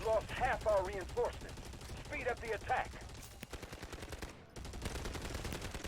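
Gunfire in the mobile shooter Delta Force Mobile, including an SMG-45: rapid bursts of automatic fire repeat through the first three seconds, then denser shooting and action noise carry on steadily to the end. No one speaks.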